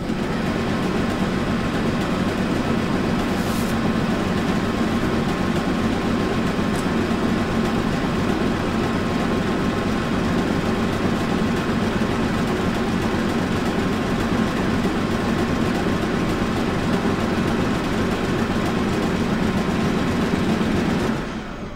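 An alternator runs on an AmFor bench tester during a test, giving a steady, loud mechanical hum with a whirring drone. It holds unchanged for about twenty seconds with no talk.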